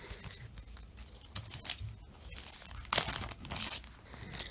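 Cardboard packaging pulled from an opened mail envelope, with loud tearing, crinkling and rustling bursts close by, strongest near the end, and no talk.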